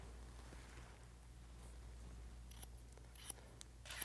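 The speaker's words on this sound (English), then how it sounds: "I'm going to cut a strong inverted line, a really strong diagonal line from short to long this way." A 7-inch dry cutting shear snips through long dry hair, a few faint, quick clicks in the last second and a half over a quiet room hum.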